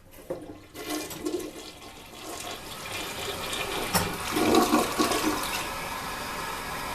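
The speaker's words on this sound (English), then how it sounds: "And now come the flush." A toilet in a Rodeway Inn motel room in Oceanside, California flushes with a loud, close rushing swirl of water that builds and then settles into a steady refilling hiss, with no voices heard.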